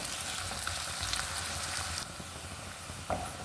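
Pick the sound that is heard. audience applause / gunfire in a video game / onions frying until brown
onions frying until brown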